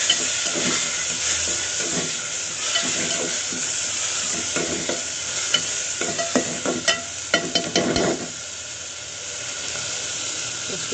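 Tomatoes for rasam frying in a pan, a steady hiss and sizzle with bursts of close stirring and scraping toward the middle, then settling back to sizzling, with no speech.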